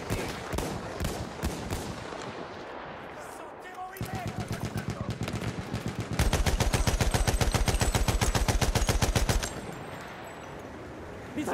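Machine gun fire and other gunshots crackle in the Verdun Heights map of a World War I shooter video game, with scattered shots early, then a long rapid automatic burst, while players talk over the action.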